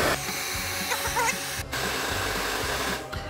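A hair dryer blows at close range over a layer of wound makeup, a steady whir that cuts out for a moment twice, with a slight rhythmic pulsing underneath.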